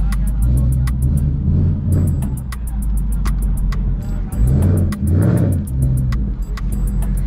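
A Pontiac G8 with full bolt-ons (headers, intake, tune) roars hard in a street race at night, its loud engine rumble surging and shifting through gears, close by, with a crowd's voices faint underneath.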